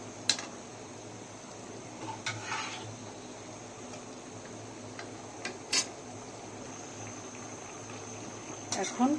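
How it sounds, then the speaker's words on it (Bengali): Raw green banana and fish curry gravy boiling in a pan: a steady, faint bubbling hiss throughout, with a few light clinks of a utensil against the pan. "এই যে কলাটা সিদ্ধ হয়ে গেছে, ঝোলটাও অনেকখানি ফুটে উঠেছে"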